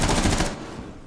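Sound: gunfire in video game Rainbow Six Siege

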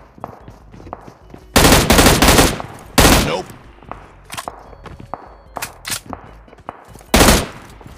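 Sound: shotgun fire in the video game PUBG Mobile

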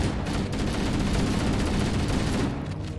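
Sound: gunfire shooting an elite in a Halo video game

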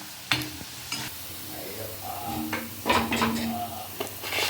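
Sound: onion pakoda frying and sizzling in oil

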